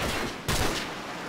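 Rapid gunfire from a Call of Duty 4: Modern Warfare match, a dense burst of shots that swells sharply partway through and keeps rattling steadily, with no talking.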